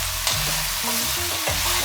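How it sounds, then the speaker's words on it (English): Sausages stirred in a hot frying pan, with a steady sizzle of oil under scraping utensil strokes at a close, even level. "We're going to mix everything together."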